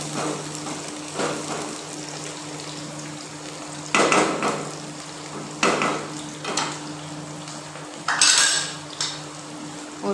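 Halved onions dropped into a hot pan for a pea and chicken curry, giving a few sharp clattering impacts and bursts of sizzling over a steady low hum, with no talking.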